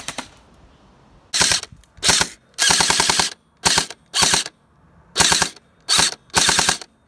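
Airsoft guns fire off leftover ammo in about eight sharp, rapid-fire bursts of clattering shots. The bursts are close and loud, separated by brief silent gaps.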